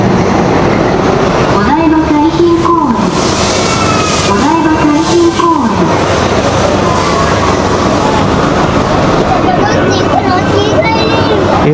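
Driverless automated train running in Japan, a steady loud rolling rumble with rising and falling motor whine throughout, people talking over it.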